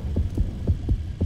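Deep, throbbing heartbeat of a nearby diver in the underwater shark game Depth, a close, steady lub-dub pulse repeating about four times over a low hum.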